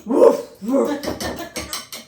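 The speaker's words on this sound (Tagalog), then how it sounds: "Grabe yung tahol minsan eh." A dog barks twice, loud and close, followed by a few lighter clattering sounds.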